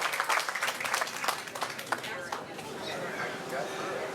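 Audience applause at a veterans salute event honoring the Patriot Guard, a crowd clapping that swells then thins into scattered claps, with murmured voices underneath.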